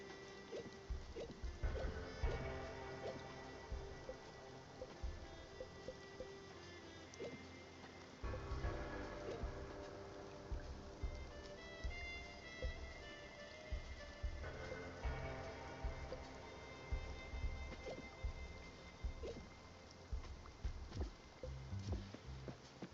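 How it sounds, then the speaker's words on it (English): Rain falling on the ocean in the Spiritfarer video game, a steady hiss and patter of drops on water that holds throughout, with soft layered background tones and no talk. "I also really like the rain on the ocean."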